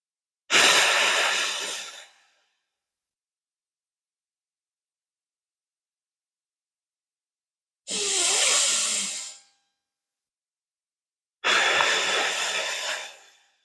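Deep, slow breaths during a psoas and hip-flexor relaxation exercise, three long airy exhalations spaced several seconds apart with silence between, close and clear with no talk.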